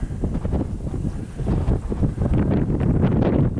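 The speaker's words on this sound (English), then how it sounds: "The wind's blowing like 50 miles an hour" Strong wind gusting at about 50 mph buffets the microphone during a Kansas deer hunt, a loud continuous rumbling roar without pause.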